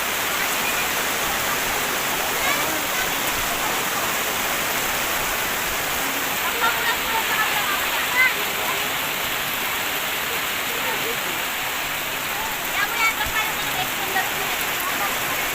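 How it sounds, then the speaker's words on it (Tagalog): Heavy rain pours down steadily on a cemetery in the Philippines in a dense, continuous wash, with a few faint voices in the background. "Walang tigil, ang buhos ng ulan mga guys."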